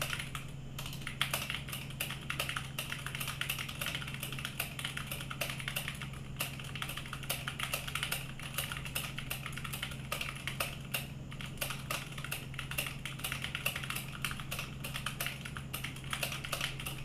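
Fast, steady typing on a computer keyboard, with hands resting on a handmade wrist rest; dense, close key clicks clatter without pause, and no voices are heard.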